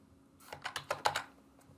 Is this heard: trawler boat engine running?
no